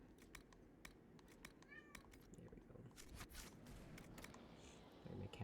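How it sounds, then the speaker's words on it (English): A house cat meows faintly in the background, several brief calls mixed with clicks and clatter of keyboard typing in a quiet room. "My cat's making all kinds of noise."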